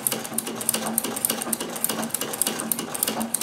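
A straight stitch sewing machine fitted with a zigzag attachment stitches at a fast, even pace, a close rhythmic clicking and whirring repeating several times a second.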